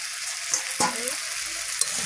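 A splash of water hitting a hot kadai with turmeric, producing a steady bright hiss and sizzle with a couple of sharp stirring clinks, close and alone.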